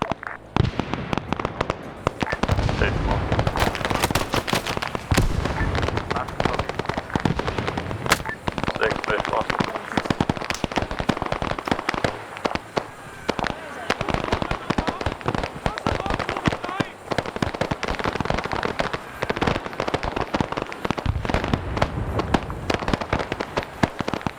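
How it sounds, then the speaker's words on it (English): Dense, continuous crackle of gunfire from a firefight over a landing zone in the Vietnam-era game Arma 3 SOG Prairie Fire: rapid overlapping shots and bursts fill the whole stretch, loud and busy, with voices talking over the shooting. "I'm just winning the firefight for the landing zone"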